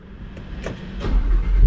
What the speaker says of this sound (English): Start the ignition, and now let's also switch it to Corsa, and 3, 2, 1, start up.